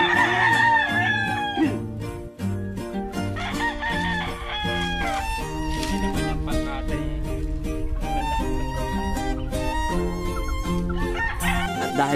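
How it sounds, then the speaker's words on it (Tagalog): Backyard chickens and roosters in a poultry yard at feeding time, loud repeated crowing and clucking over a busy, continuous background of farm noise. "magpapatuka na nga pala siya itong kanyang mga alagang manok dito."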